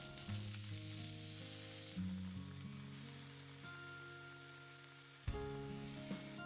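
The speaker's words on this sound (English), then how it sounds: "And I saute them on the well-heated pan." Soaked ingredients sauté on a well-heated pan over high heat for Japanese osechi teriyaki, giving a steady close sizzle with a few stirring bumps and no voices.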